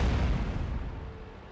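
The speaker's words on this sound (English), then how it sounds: "that artillery is relentless, bombarding him constantly" An artillery shell bursts in World of Tanks: one heavy, close boom with a deep low rumble that decays over about a second and a half, with no voices.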